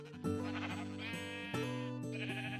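A sheep on a video game farm bleats twice in a row, loud and close, each a wavering, nasal call, with no other sound around it.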